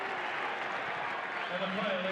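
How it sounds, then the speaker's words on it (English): A stadium crowd cheers and applauds at a 1995 rugby league match between Newcastle Knights and Sydney Bulldogs as a player comes on, a dense, continuous roar with a voice talking over it. "Enormous cheer around the ground as the big man comes on."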